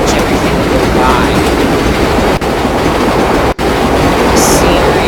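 Simulated subway train on the Flushing Line 7 in World of Subways 4 rumbling through a tunnel under the East River, a loud, continuous roar with two brief sharp dropouts partway through.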